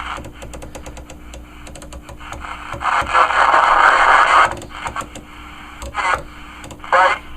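A CB radio at a flea market on channel 28 gives scratchy reception: clicks and crackles, with a louder burst of rushing static in the middle and short bursts of noise cutting in and out.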